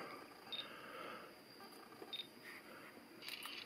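A Pentax Optio E85 compact digital camera fires a photo when its shutter is triggered through a wire. Two short, faint clicks sound about a second and a half apart in an otherwise quiet room, with a few soft rustles near the end.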